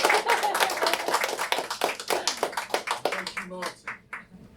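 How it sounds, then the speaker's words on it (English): Audience applause at a Story Radio writers' salon on libraries, a burst of close, lively clapping that thins out and fades after about three seconds, with a voice speaking over its tail. "Round of applause."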